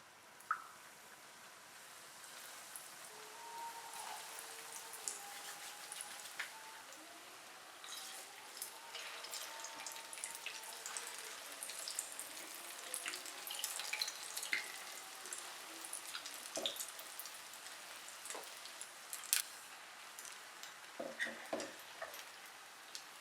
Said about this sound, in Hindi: ये कबाब को फ्राई करते हैं।